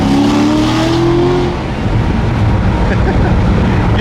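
A Corvette Z06 with a fault revs loudly close by, the engine note climbing and then settling into a rough idle.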